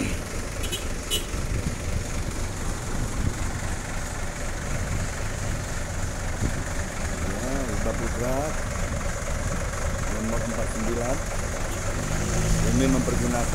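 A Hino-engined intercity bus idles at a roadside ticket stop, its low, even rumble running steadily throughout, with someone talking over it nearby.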